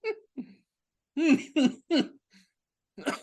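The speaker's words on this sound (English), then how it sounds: "No, I'm coughing." Several short, harsh coughs in a quick cluster, with a few softer throaty bursts before and after, close to the mic.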